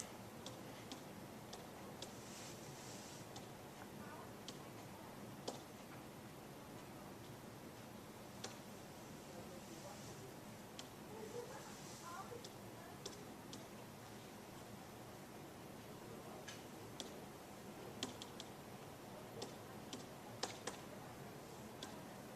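Keys tapping on a computer keyboard as a question is typed, sparse light clicks in irregular bursts over a quiet steady hiss, no voices.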